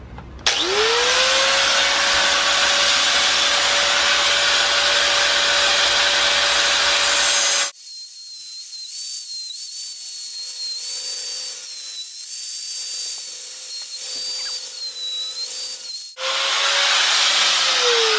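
A power tool trims metal L brackets for an intercooler install, a loud steady high whine running alone, pausing midway to a lighter spinning-down tone, then resuming at full pitch.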